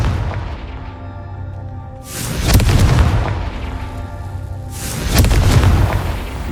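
A Confringo blasting spell erupts in Hogwarts Legacy, two loud booming explosions a few seconds apart, each a heavy rumbling blast that swells and slowly decays, with no voices.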